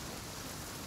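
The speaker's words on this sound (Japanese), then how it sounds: "いいタイミングで、 雨降ったなぁ。" Rainfall in the video game Genshin Impact, a brief, even hiss of steady rain filling the moment without speech.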